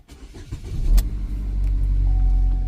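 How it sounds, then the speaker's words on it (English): A 2014 GMC Terrain engine cranks and starts after a short click, then settles into a steady, close idle hum with a faint whine. "And the vehicle is able to start up."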